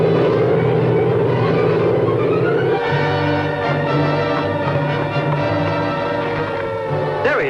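A low-flying Navy propeller airplane approaching a runway, its engines giving a loud steady drone with a rising whine in the middle, close and continuous throughout.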